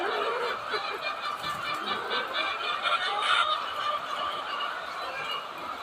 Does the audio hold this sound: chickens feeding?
yes